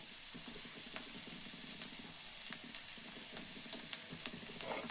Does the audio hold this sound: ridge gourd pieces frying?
yes